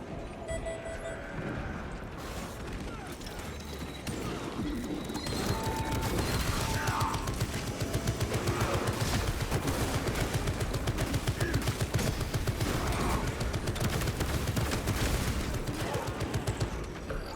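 Sentry gun turret in Space Marine firing rapid, continuous bursts of automatic gunfire amid battle clatter and mechanical noise, sustained and loud throughout.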